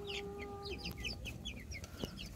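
Chickens clucking and chattering close by as they peck at cracked corn, a flurry of short overlapping clucks with a brief sustained call at the start.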